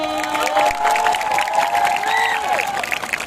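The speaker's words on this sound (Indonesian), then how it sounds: "Beri aplaus dulu." An audience of children and adults at a traffic-rules outreach event in Samalantan, Bengkayang, breaks into loud, steady clapping mixed with cheers and shouting voices, close and dense throughout.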